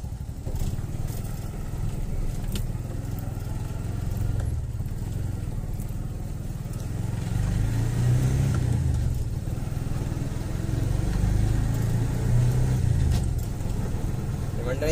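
An auto rickshaw engine runs steadily as the vehicle drives out after a long time parked, its low mid-pitched drone continuous and close for the whole stretch, with people talking over it.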